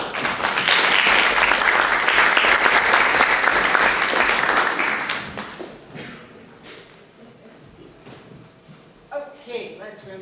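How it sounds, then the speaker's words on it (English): A community theatre audience at a comedic dating-game stage show bursts into loud, dense applause for about five seconds, which then thins out and tapers off, leaving scattered claps, shuffling and faint voices in the hall. "Everyone give a big round of applause for Isabel!"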